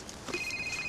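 A telephone rings with a short, bright electronic trill lasting under a second, heard indoors at a moderate distance with no talking over it.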